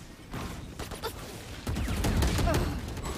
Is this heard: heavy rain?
no